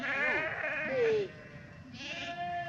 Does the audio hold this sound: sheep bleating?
yes